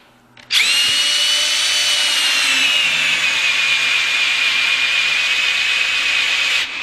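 A paddle bit drills into wood with a power drill, a loud continuous whine with a harsh high edge that starts abruptly and runs steadily for several seconds before stopping, close up with no talking.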